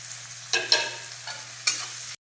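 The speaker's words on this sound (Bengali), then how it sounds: "আদা রসুন ভালোভাবে ভাজা হয়ে গিয়েছে" Chopped onion, ginger and garlic fry in a pan in a home kitchen, with a soft steady sizzle broken by four or five brief scraping stirs, close and alone with no talk.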